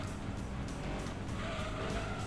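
Race car tires skidding and squealing in Gran Turismo 2, a Lancia Stratos struggling to turn, steady loud engine roar with sustained tire screech layered over it, no talking.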